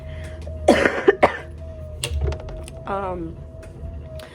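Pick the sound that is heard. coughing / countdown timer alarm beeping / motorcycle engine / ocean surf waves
coughing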